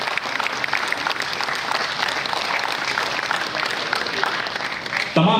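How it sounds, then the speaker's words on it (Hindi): Sustained loud applause from a mushaira audience at a New Delhi poetry gathering, dense steady clapping filling the whole stretch with a slight surge at the end. "अपने दोनों हाथों को जहमत दें और जोरदार तालियों के साथ"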